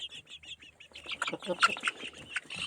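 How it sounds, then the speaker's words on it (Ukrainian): A flock of chickens clucks and squawks close by. It starts with a few repeated calls, then becomes a dense, overlapping chorus of clucking. "Подивіться, курей тьма."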